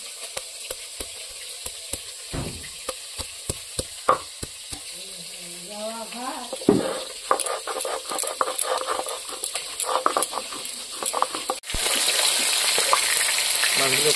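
Pieces of silver carp sizzle and spatter steadily in hot oil in a pan, with stirring and turning clatters and a brief hum of voice partway through, ending in a louder burst of frying.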